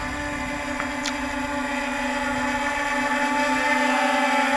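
A Walkera Scout drone flies with a steady, high-pitched buzzing whine of its rotors, holding a constant tone throughout at moderate distance, with a faint brief chirp early on.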